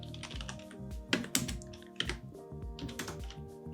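Fingers typing on a computer keyboard up close, an uneven run of quick clicks with several sharper, louder keystrokes. No one speaks.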